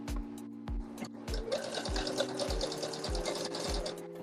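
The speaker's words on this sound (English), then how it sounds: "this is actually a very quick sew. So blink and we're gonna be done." Close, loud sewing machine stitching through fabric, a rapid regular needle thump under a rushing motor whir that continues without a break.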